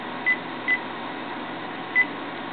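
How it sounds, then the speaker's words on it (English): Telephone keypad tones dialing out to call an iPhone 3GS, three short beeps, two in quick succession and one after a pause, over a steady hiss of line noise. "So let's call my phone."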